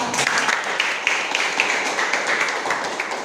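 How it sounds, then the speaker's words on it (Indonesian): Classroom group clapping for a student presenter after a group presentation, a dense patter of hands sustained throughout at moderate volume with no voices over it. "Jadi tepuk tangan untuk Mbak."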